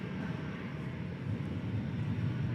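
A jet airliner climbs away from DFW Airport after a long takeoff roll. Its engines give a steady, distant, broadband roar that swells slightly toward the end.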